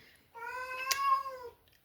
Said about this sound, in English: pardon my cat